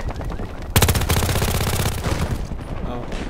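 Rapid automatic gunfire in Call of Duty on a small close-range map, a dense burst of fast regular shots starting abruptly and running over a second before trailing into scattered noise, loud and near.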